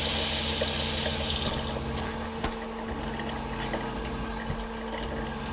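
Water runs steadily from a travel trailer faucet, a continuous close, even rush with a low pump-like hum beneath it and no talking.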